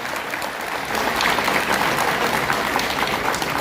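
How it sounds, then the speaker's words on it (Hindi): Audience applause welcoming a politician at a constitution-themed rally in Bhilai, a dense, steady wash of clapping from a large crowd that swells slightly after the first second and holds loud and even throughout, with no voices over it. "तालियों से स्वागत अभिनंदन करो सभी से अनुरोध करता हूं।"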